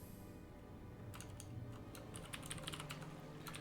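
Quiet, rapid tapping on a computer keyboard, a scatter of light key clicks starting about a second in and continuing in uneven bursts, distant and faint against a low room hum.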